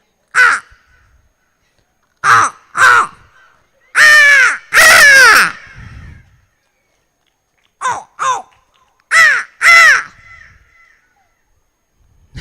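A human voice imitates a crow's cawing: about nine loud, harsh caws delivered singly and in quick pairs, with short pauses between groups and no other sound around them.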